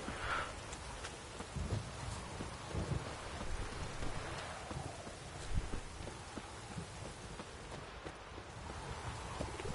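Steady rain patters and hisses across the whole stretch in The Witcher, with low rumbles underneath like distant thunder; no voices.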